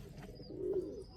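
A single soft pigeon coo, low and brief, heard faintly in a quiet setting.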